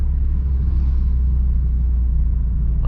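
A manual car's engine drones on the road with a steady low rumble as the driver gives it gas, close and continuous with no talk.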